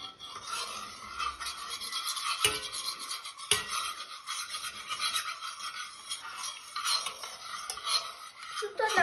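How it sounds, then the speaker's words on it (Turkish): A spoon stirs sugar into water in a glass, a continuous clinking, scraping swirl with a few sharper taps against the glass, close and steady throughout. "İyice karıştır, karıştır, karıştır."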